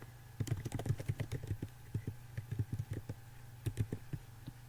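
Typing on a computer keyboard, bursts of quick sharp key clicks in uneven runs with short pauses, close and clear, no voices.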